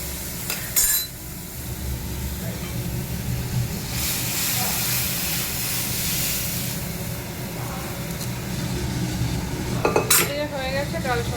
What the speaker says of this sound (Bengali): এই যে ডালটার সম্বাদ দেবো এখন। এখানে তেজপাতা শুকনো লঙ্কা দেওয়া হয়ে গেছে।